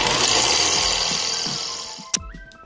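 A power drill grinds steadily through rusty, seized bolts on a Japanese-style scooter, a loud continuous whine that slowly fades over two seconds before stopping with a sharp clunk and brief clatter.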